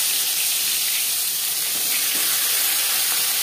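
Marinated tilapia pieces frying in about four spoons of hot refined oil, giving a steady, loud, bright sizzle and hiss that holds evenly throughout without pause or speech.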